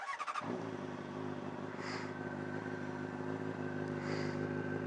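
A 2007 Honda CBR600RR motorcycle engine with a new exhaust fires up and idles with a steady throbbing exhaust note, swelling into two brief revs.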